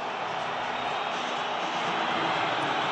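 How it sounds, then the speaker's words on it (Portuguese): São Paulo football fans roar as the team enters the stadium for the 2023 Copa do Brasil first leg against Palmeiras, a dense, continuous wash of crowd noise at steady volume. "E esse é o som do torcedor do São Paulo recebendo o time"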